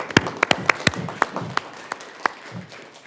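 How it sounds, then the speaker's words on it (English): A handful of scattered, uneven hand claps ring out in a room during a Yucca Valley town council meeting, each sharp and distinct, thinning toward the end rather than forming a dense round. "let's give her another round of applause"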